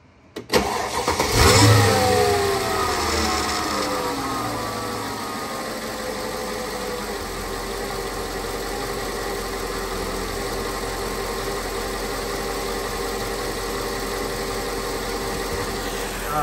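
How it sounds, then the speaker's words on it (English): A Mercedes SL500 engine cranks and catches with a loud rev, then settles into a steady, even idle that holds for the rest of the clip, with a faint whine over the hum. "I'm gonna start the car up and just listen."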